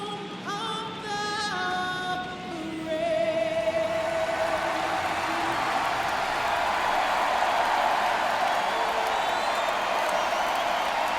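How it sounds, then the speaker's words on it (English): A large stadium crowd at a Dodgers–Phillies NLDS baseball game roars and cheers loudly and continuously as the national anthem ends, with sustained brass-like tones fading beneath the swelling noise. "The crowd is electric"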